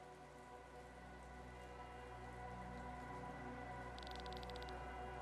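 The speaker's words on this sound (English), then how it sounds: "It's raining." Rain falls in the Chained Echoes video game, a steady, quiet wash of pattering drops on surfaces, with a brief chime-like shimmer near the end.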